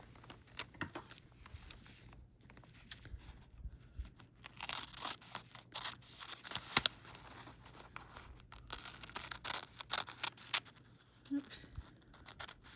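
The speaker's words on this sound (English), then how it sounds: "And it cuts and it tears and it's mulberry paper." Scissors snip and tear through mulberry paper while cutting out a small two-inch square, giving irregular close crinkly crunches and rips, with some talking between the cuts.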